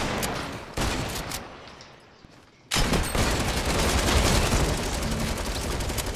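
Loud, dense bursts of pump shotgun and other gunfire in a Fortnite Battle Royale match, breaking off briefly into a near-silent gap before the blasts resume and continue steadily to the end.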